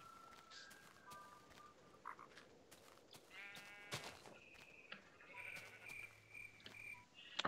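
Several short, nasal bleats from Minecraft sheep come at irregular intervals over a quiet game backdrop, with a few clicks and no speech.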